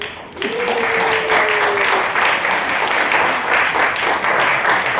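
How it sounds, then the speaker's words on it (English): Loud, sustained audience applause at a Toastmasters District 108 event in Łódź, dense clapping continuing steadily throughout, with a brief tone near the start. "applause at the beginning"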